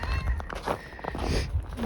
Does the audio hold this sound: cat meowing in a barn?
yes